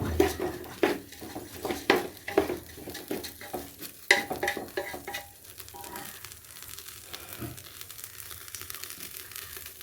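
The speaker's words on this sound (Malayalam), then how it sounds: "ഉപ്പിട്ട് ഒന്നുകൂടെ ഒന്ന് ഇളക്കിയിട്ട്" A spoon scrapes and clinks rhythmically through rice with salt and spices frying in oil in a pan, close by, with soft sizzling under the stirring strokes that thin out toward the end.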